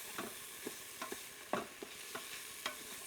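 Carrots and onions being stirred as they sauté in an Instant Pot, with a spoon scraping the pot in regular strokes over a steady soft sizzle, fairly quiet and with no talking.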